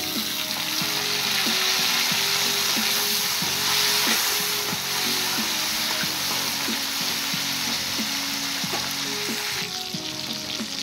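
Chopped tomatoes fry with lightly fried onions in a pan, giving a loud, even hiss of sizzling oil punctuated by regular soft stirring knocks.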